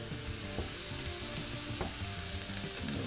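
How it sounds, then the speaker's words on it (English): Butter sizzling in a hot pan on the stove, with a continuous close frying hiss and a couple of soft utensil knocks, steady and without talking. "I'm gonna add a little butter to it"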